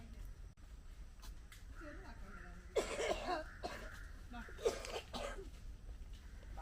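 A couple of harsh coughs break through, loud and close, amid quiet background noise and faint talk.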